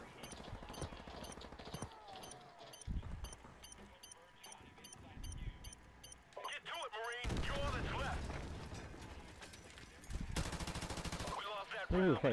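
Gunfire in Modern Warfare Remastered competitive Search and Destroy, with bursts of rapid automatic shots, some near and loud, some fainter, mixed with game effects and players talking over them.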